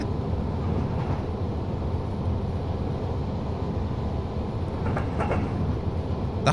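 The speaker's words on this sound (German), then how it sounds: "Du fährst den Zug da unten vorbei." A train in the Train Simulator Classic video game passes below, heard as a steady, loud rumbling roar with faint clanks near the end and no talking.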